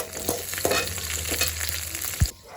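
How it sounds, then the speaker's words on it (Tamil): Onion and a single green chilli fry in a hot pan for a wheat rava biryani, giving a continuous close sizzle with several spoon scrapes and a sharp knock near the end before it cuts off. "இப்போ வெங்காயம் போடணும், நல்லா வேகட்டும். ஒரே ஒரு பச்சை மிளகாய் போட்டாச்சு"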